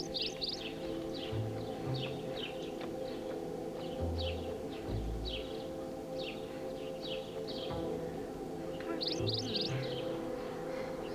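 Small birds chirp in short, repeated bursts across the whole stretch, set against a steady low hum and a few deeper thumps, with no voices.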